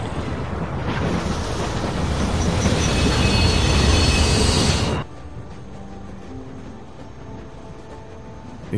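A train rolls along its tracks in The Walking Dead video game, producing a loud, broad rumbling roar that cuts off abruptly partway through and leaves a quieter, steady background hum.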